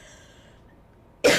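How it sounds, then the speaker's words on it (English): A single short, sharp cough bursts out abruptly after near silence, close and fairly loud, from a woman with allergies. "I'm still coughing."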